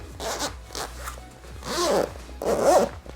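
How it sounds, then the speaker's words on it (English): The fabric cover of a Cincom leg and thigh massager being unzipped up close, several drawn-out zipper rasps in separate pulls, the last two longest and loudest, with no talk over them. "But if you guys do unzip it"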